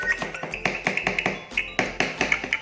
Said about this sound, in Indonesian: Ini saya ketok-ketok di dekat alatnya.